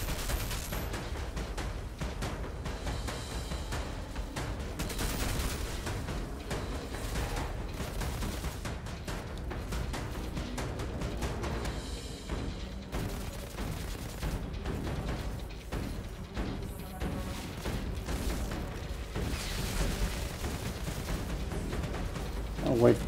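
Automated turrets firing in The Division 2 during a Technomancer fight, bursts of gunfire and booms rattling on and off throughout, loud and dense, mixed with other combat noise.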